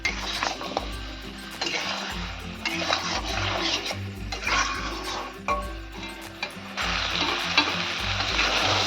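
Potatoes and eggplant in a vegetarian curry sauté in a pan with a steady sizzle, punctuated by repeated scraping and clattering strokes of a stirring spoon, close and fairly quiet, with no talk.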